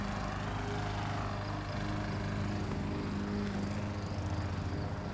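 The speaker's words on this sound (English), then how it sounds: "Mom's mowing." A lawn mower running at a home, a steady engine drone heard from some distance, continuous and unbroken throughout with no voices over it.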